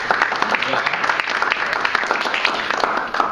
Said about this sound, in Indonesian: Tepuk tangan Bapak Ibu sekalian untuk topik ini